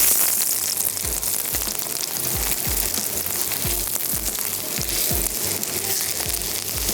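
Potato kebab patties fry gently in a pan over low heat, with a steady, close sizzle and hiss and soft crackling pops throughout.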